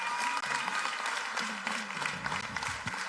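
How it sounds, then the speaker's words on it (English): Applause from an audience at a Trinidad PNM general election 2020 political rally, steady crowd clapping throughout with a faint voice and rumble mixed underneath. "Give her a round of applause."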